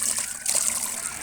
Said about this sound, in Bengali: বড়ইগুলো এখন ধুইতে হবে, সুন্দর মতো ধুয়ে নিতেছি।